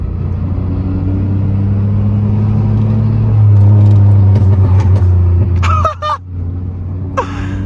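Muffler-deleted Pontiac Grand Prix GT driven in first gear, its loud raw exhaust droning close up, swelling as it revs, then cutting off briefly with sharp pops before the rumble resumes.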